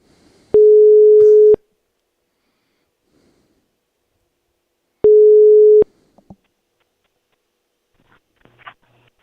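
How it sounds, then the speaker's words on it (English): A European phone ringing tone on a call: two steady, loud single-pitch tones about a second long, several seconds apart, with silence between and faint small noises afterward. "that's a weird one. Sounds like a European phone."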